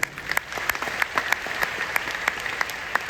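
A large seminar audience of thousands in Patna claps together in a steady, sustained wave of applause with sharper individual claps popping out, heard from within the crowd at moderate volume.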